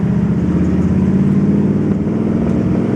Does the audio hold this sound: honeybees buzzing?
no